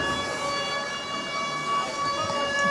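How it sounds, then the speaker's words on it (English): A civil-defense style siren wails steadily at a high school football stadium one minute before kickoff, holding a sustained tonal blare throughout. "As a siren starts to sound, 1 minute away from kickoff"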